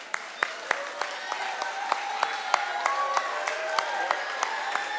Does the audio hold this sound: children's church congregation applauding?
yes